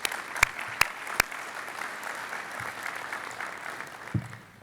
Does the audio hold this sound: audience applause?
yes